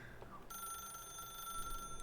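A telephone rings in The Stanley Parable, a steady electronic ring with bright sustained tones that sets in after a brief pause and keeps sounding on its own, fairly loud and close.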